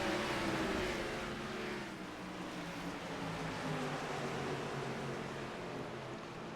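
Race car engines in a stock car racing video game, an Xfinity Series league race, drone and rise together in a steady, loud, continuous roar with layered harmonic whine and no pauses.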